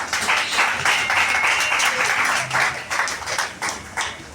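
A church congregation applauds after a reading, a steady dense wash of many hands clapping in a reverberant space, sustained throughout with slight swells and dips.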